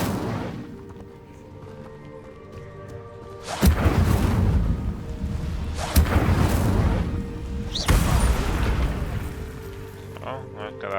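Incendio fire spell cast in Hogwarts Legacy, heard as three loud bursting whooshes of flame spaced a couple of seconds apart, each trailing off into a crackling roar, over a quieter game ambience.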